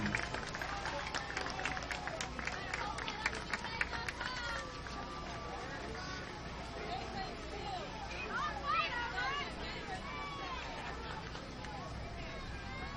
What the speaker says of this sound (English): will you join me and give them a great round of applause for their play here this week?